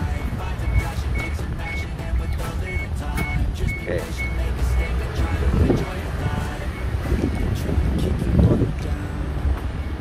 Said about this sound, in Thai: ลมแรงนิดนึง